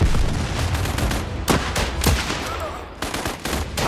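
Gunfire from a sniper battle in the video game Last Train Home: several sharp shots over a dense, continuous wash of distant combat noise, close and loud.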